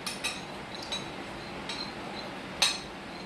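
A spoon stirs soy sauce in a bowl, giving a few faint, scattered clinks against the dish. The clinks are spaced irregularly over a quiet background, and the last one is sharpest.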